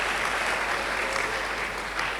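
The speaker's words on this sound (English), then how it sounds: "let's give them a rousing applause for a good work done" Rousing applause at a church's 175th anniversary celebration in Akropong, Akuapem: a broad, continuous roar of many hands clapping at steady loudness throughout.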